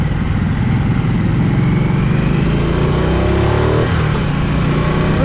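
A 2023 Harley-Davidson Nightster Special motorcycle being ridden, its engine running loud and close with a steady throbbing rumble, rising and falling slightly as the throttle shifts, with no voices.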